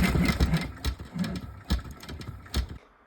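An embroidery machine stitching a magnetic bookmark hoop, a close, busy mechanical whir with a rapid rhythmic needle thump that runs steadily, then stops abruptly near the end.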